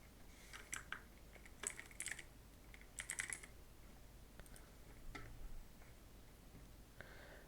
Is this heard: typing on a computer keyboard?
yes